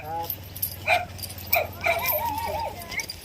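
A dog barks and yips in a few sharp bursts, fairly close, while people talk over the rumble of background noise.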